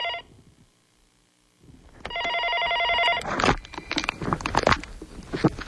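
A telephone rings with steady repeated electronic tones in a quiet home, followed by rustling and handling noise as the call is picked up.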